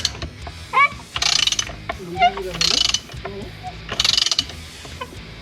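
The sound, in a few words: impact wrench on Hyundai/Kia steering wheel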